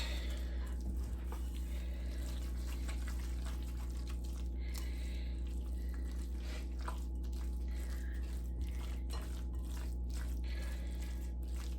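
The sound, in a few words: stirring tuna fish cake mixture with panko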